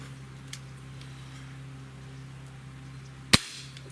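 One sharp crack from a Cometa 94 breakbarrel air rifle, a single close, loud shot after a few seconds of quiet room tone, with a faint click early on.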